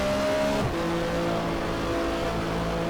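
A race car in rFactor keeps a steady engine drone that shifts pitch as it changes gear, with tyre noise underneath and no voices.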